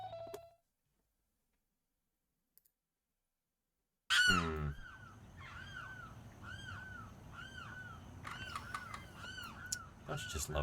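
Limpkin calls played back from a recording: a loud series of repeated harsh, wailing cries with a steady rhythm after a few seconds of near silence, over low background hum.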